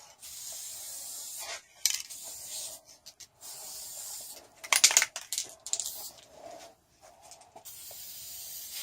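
A spray can lays a coat of finish on wooden companionway slides in close, loud hissing bursts, some long and some short, separated by brief pauses.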